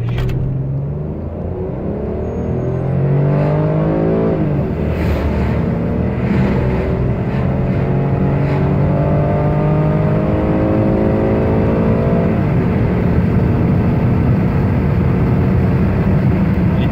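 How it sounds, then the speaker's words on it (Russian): A Rover 75 car accelerating in sport mode, heard from inside as the engine note climbs through a rising sweep, drops briefly at a gear change and climbs again, a loud continuous drone with road rumble and no talk. "Идет довольно хорошо автомобиль, без всяких проблем, разгоняется."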